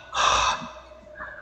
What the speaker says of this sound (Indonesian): telingaku seperti mendengar suara dengusan napas memburu